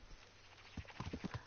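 Horse hooves clip-clop in a short run of quick, soft steps in the video game Kingdom Come: Deliverance, faint and low in level with no voices over them.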